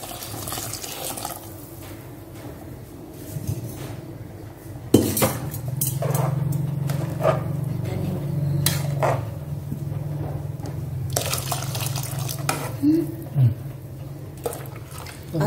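Coconut milk goes into a pot of black kavuni rice porridge amid clinks of a metal pot and spoon and a steady liquid pour, with sharp utensil taps scattered throughout.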